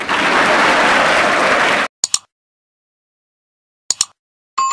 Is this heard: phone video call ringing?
no